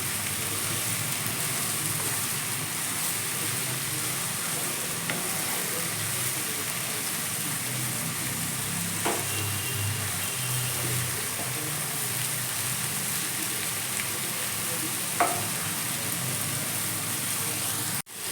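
Snake gourd fries with coconut chilli powder as it is stirred in a pan, giving a steady close hiss like light rain. A few faint clicks rise above it, and no one speaks.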